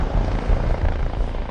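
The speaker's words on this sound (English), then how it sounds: "a police helicopter is scrambled to assist the search" Police helicopter scrambled for a woodland search, a steady, loud thudding rotor drone with low-end rumble that holds throughout, close overhead, with no voices.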